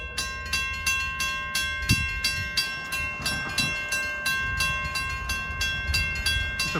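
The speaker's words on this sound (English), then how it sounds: "It's a pretty decent sized train." NJ Transit train passing with a GP40 PH-2B locomotive shoving, steady rhythmic clickety-clack of wheels over rail joints repeating about twice a second, near and continuous with a faint tonal hum and no voices.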